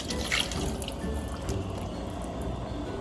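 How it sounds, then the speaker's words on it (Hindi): Water is poured into a cooking pot of kabab pulao, a soft steady trickle and splash close by with no one speaking. "पानी और शामिल कर रही हूँ।"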